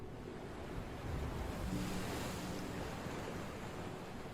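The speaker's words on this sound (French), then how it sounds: "Bah, je regarde les vagues" Ocean waves surging against the shore with gusts of wind buffeting the microphone, a continuous fairly quiet roar that swells slightly in the middle, with no voices.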